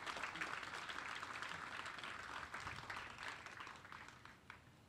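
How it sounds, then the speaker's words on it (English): An audience at an outdoor military ceremony, a US and Canadian army change-of-responsibility event, applauding the color guard with steady, distant, fairly faint clapping that tapers off slightly toward the end. "how about a big round of applause for them?"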